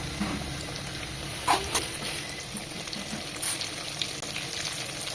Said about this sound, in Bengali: আলুটা বেশ ব্রাউন কালার করে ভেজে নেব